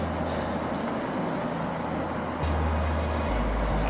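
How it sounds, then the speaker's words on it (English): Road traffic on Hot Wells Road heard from a distance, a continuous low rumble with a deeper vehicle drone swelling in toward the end, faint and steady with no voices. "You can hear the road traffic just on Hot Wells Road in the distance now."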